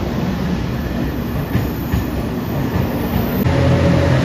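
A renewed JR Shikoku 8000 series limited express electric train rolls into Takamatsu station, a continuous loud rumble of wheels and motors with soft rhythmic rail clicks and a louder surge near the end.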